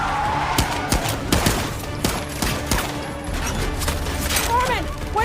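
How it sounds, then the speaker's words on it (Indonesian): Rapid bursts of gunfire crackle through a film scene, shots overlapping in quick volleys amid loud action noise and voices. "untungnya ada Roxy hingga terjadilah aksi tembak-tembakan"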